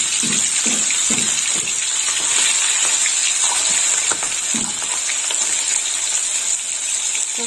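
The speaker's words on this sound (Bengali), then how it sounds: "তেল গরম হয়ে গেছে, এবার মাছগুলো ভেজে নেব।" Prawns fry in plenty of hot oil in a home kitchen, a loud, close, continuous hissing sizzle with bubbling spurts, some low clatter of the pan underneath, and no talk.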